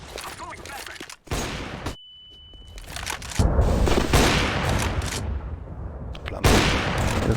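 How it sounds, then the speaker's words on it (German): A flashbang grenade thrown during a CS:GO match, heard among bursts of gunfire and loud blasts, with a sharp ringing tone and sudden near-silence before the firing resumes loudly. "I'm throwing a flashbang."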